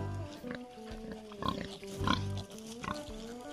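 Large mixed-breed farm pigs, a breeding boar among them, give a few close, short grunts in quick succession over a quiet backdrop.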